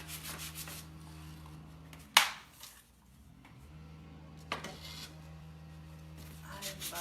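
Sanding painted wood to pull the grain through for a weathered finish, soft close rubbing strokes with a sharp scrape near the start and another mid-way, quiet background hum.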